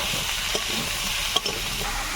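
Taro and potato with ginger-garlic paste, salt and turmeric fry in a pan: a close, steady sizzle with a few sharp clinks and scrapes of stirring, and no speech.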